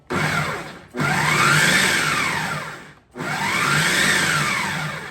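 A food processor pulses cauliflower for risotto in two long loud whirring bursts, each starting abruptly and easing off, with a short silent gap between them.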